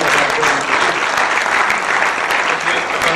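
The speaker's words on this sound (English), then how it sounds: "I think the film deserves a bigger round of applause." Loud, dense audience applause after a virtual film premiere, sustained and even throughout with crowd noise mixed in.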